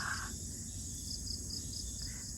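Crickets chirp steadily in a chilli field in the province, a continuous high trill with faint pulsing notes over low background hum, no voices.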